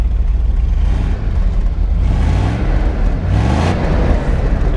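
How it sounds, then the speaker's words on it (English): A 1979 Mercedes 450SL's engine runs loud and close, rising in a couple of throttle blips over a steady rumbling idle with no talking. "Go ahead and rev it up a little bit."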